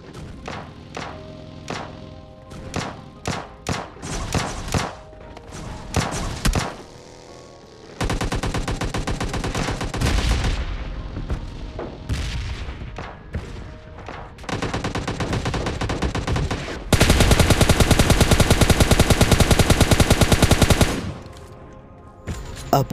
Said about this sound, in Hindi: पीछे से फायर आता है, और बंदा किसी बंदे को AWM से फायर करता है